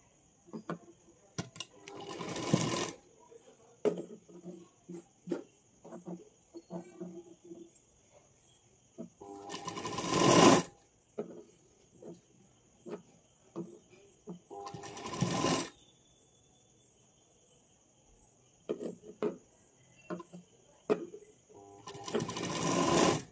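A sewing machine stitches a blouse sleeve in several loud, rapid bursts of whirring, separated by pauses filled with someone talking and soft handling of the fabric, all close by.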